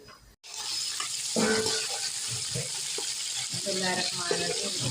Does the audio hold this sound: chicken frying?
yes